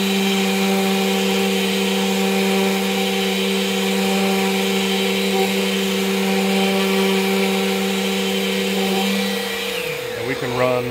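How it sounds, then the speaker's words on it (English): Electric sander sanding the rounded corners of a CNC-cut catch-all tray, a loud steady whine with strong tonal hum running throughout, then winding down and trailing off at the end. "So we'll take our sander."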